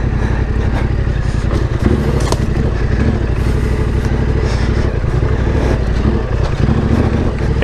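A Yamaha Tenere 700 adventure motorcycle crawls a rough off-road trail in first gear with the clutch slipped, its engine chugging loudly and close with steady low revs and rattling clatter throughout.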